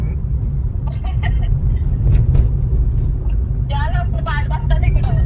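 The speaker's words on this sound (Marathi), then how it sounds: "मी इथूनच गाडी रिटर्न फिरवते आता." A car drives along a road and turns around, its low engine and road rumble steady throughout, with people talking over it.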